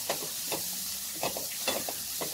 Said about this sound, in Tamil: இது நல்லா ஒரு நிமிஷம் வதங்கட்டும்.